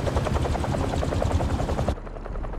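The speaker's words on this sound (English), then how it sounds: "a helicopter's blades." Helicopter blades in the Spider-Man 2 video game beat out a rapid, loud, pulsing whir with deep low thumps, steady for about two seconds before the sound drops and dulls.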